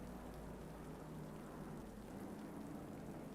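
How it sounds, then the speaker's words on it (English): Rain in a GT3 endurance racing video game at Spa-Francorchamps, a faint steady hiss of falling rain with no voices. "It is raining, ladies and gentlemen."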